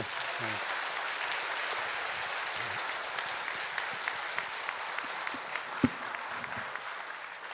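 Audience applause at a Korean Christian media live broadcast, a sustained broad clapping crowd with a few louder individual claps and faint voices underneath, easing slightly toward the end.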